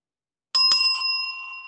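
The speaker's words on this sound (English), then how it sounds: "that was the double bell" Two quick strikes of a bell in close succession, a bright metallic ding-ding whose clear ringing tone then decays slowly over about a second, loud and alone against silence.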